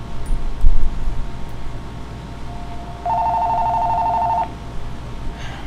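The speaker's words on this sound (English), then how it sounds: "let me grab the phone" A telephone rings with a steady electronic trill that holds for over a second before cutting off. It is fairly loud and clear over a low background hum, with a few faint knocks earlier.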